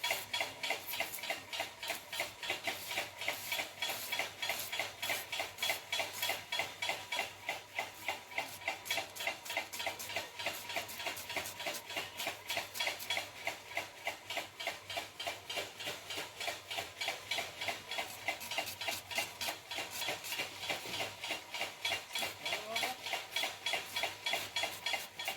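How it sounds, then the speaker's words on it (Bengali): A knife finely slicing onion on a board, a fast, steady run of crisp, close taps that keeps going evenly throughout with no talk. "এবার পেঁয়াজটাকেও কিন্তু ওই একইভাবে একদম ঝিরিঝিরি করে কেটে নেব।"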